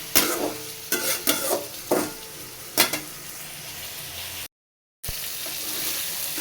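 Soybean chunks fry with spices in a pan, scraped and stirred in several quick strokes over a constant sizzle, with a brief dropout of silence near the end before the frying resumes.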